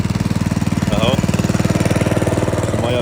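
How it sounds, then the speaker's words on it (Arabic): A motor-driven pump pushes irrigation water on a farm, chugging in a fast, steady mechanical pulse close by and loud throughout, with a voice talking over it. "ده الموتور بقى اللي بالميه"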